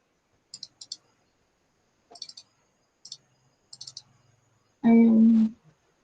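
Computer mouse button clicking in small clusters of two or three sharp, close clicks spread over several seconds, followed by a short loud burst of voice.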